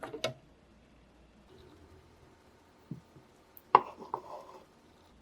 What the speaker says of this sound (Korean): 크러쉬드 레드페퍼 약간 넣고 갈아주세요.